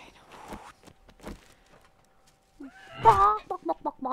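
A chicken in a survival home-building video game clucks in short bursts, sparse pecking clucks at first and then a louder squawking run near the end.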